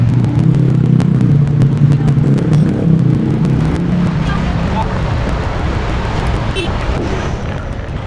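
Motorbike pulling away through narrow Bali traffic with a passenger on the back, a loud, steady low engine rumble that holds throughout, with traffic noise around and talk at times.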